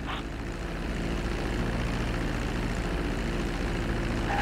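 Propeller airplane in Grand Theft Auto V flight school, taxiing after landing, a steady low engine drone with whirring propeller noise throughout, close and constant.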